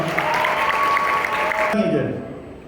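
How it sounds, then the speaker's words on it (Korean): Wedding guests clap steadily after the officiant's declaration at a Korean wedding ceremony, with a sustained tone and some voices layered over the clapping before the sound cuts off abruptly. "축복의 박수 부탁드리겠습니다"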